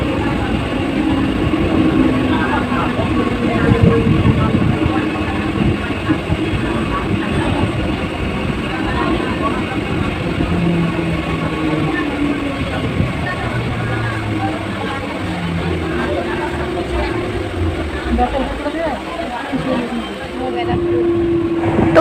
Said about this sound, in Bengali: মধ্যমগ্রাম প্ল্যাটফর্ম থেকে ট্রেন ছেড়ে দিয়েছে